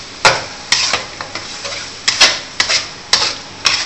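Nyonya babi pongteh stirred in a pot gives a series of sharp, irregular scraping clacks of a utensil against the pot, close and distinct, about eight strokes over a few seconds with a faint simmer underneath.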